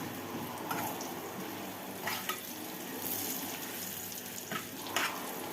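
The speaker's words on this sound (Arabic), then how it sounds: "هنوطي بقى عشان هنحمر العيش" Bread sizzles and fries in hot oil for Egyptian koshari, a steady crackling hiss with occasional small pops and spatters, heard alone without talk.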